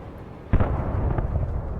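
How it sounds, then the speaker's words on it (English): A helicopter blows up in Alan Wake Remastered: a sudden loud blast bursts in about halfway through, trailing into a rumbling, crackling tail of debris and fire. "Dang, that helicopter got fucked up"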